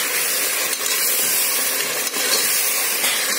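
Five medium tomatoes sauté in a pan for chicken biryani, producing a loud, continuous, close frying hiss that barely varies throughout.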